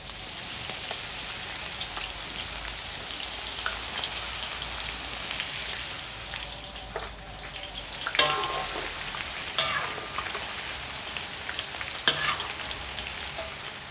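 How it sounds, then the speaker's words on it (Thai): Garlic frying in hot oil in a pan after fish has been fried, a steady broadband sizzle throughout with a few sharper crackles and pops near the end, close and fairly loud, no voices. "หลังจากเราทอดปลาเหลืองได้ที่ตรงตามความต้องการแล้วเราก็ใส่กระเทียมลงไปเจียวเลย"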